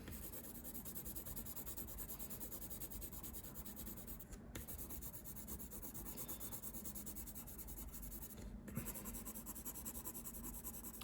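A graphite pencil is pressed heavily to shade solid areas of an isometric drawing, giving a soft, continuous scratchy rubbing on paper with brief pauses between strokes, quiet and close.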